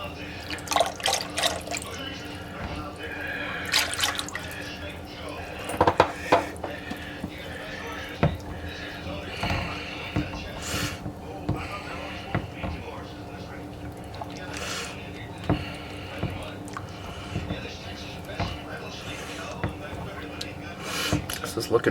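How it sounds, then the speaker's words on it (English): Half and half is poured into a pot of cheesy broccoli soup, giving scattered drips and liquid splashes along with soft clinks, while a person talks through much of it. "I'm going to go ahead and add the milk now, or the half and half."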